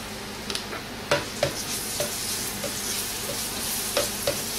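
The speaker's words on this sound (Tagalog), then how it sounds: "ngayon mainit na yung ating oil, igigisa lang natin yung ating garlic" Garlic sautés in hot olive oil in a skillet with a constant close crackling sizzle. Occasional light clicks from a stirring utensil break through the hiss.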